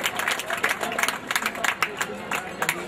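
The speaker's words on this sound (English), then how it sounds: "Let us give them a big applause." Audience at a school sports and drill display clapping for the musicians, dense uneven hand claps with crowd babble and some speech mixed in, close and fairly loud throughout.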